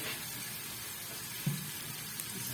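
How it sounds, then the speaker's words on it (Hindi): Water splashed into a hot pan of large chopped tomatoes, giving a steady soft sizzle and hiss with a brief louder splash partway through, close and alone. "यहाँ पे हम देंगे इसको पानी का छटा"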